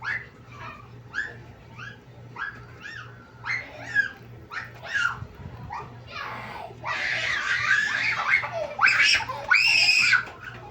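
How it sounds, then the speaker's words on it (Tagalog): Children play and scream in a busy, noisy bunch, with shrill shrieks, chatter and yelps coming in repeated bursts that grow louder and more frantic toward the end, over a faint steady hum. "Ito ang ingay ng mga bata."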